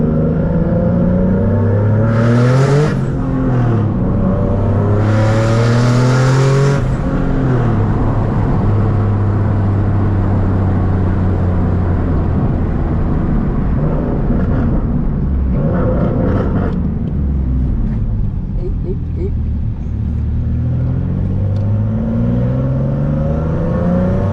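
A single-turbo Nissan 370Z Nismo engine revs hard and climbs through the gears, the pitch rising and dropping with each shift, loud and up close with no talking.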